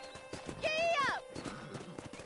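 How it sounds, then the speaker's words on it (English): A horse in the Red Dead Redemption video game clip-clops close by and lets out a bright, rising whinny in the middle, with a voice faintly present around it. "let's see if you can still ride a horse"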